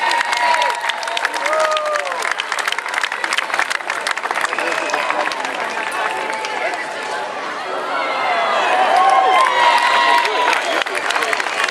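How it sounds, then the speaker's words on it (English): A crowd cheers and claps at a town parade as a cheerleader float passes, steady outdoor cheering and chatter throughout with a louder swell near the end. "I think we're going to get a cheer here."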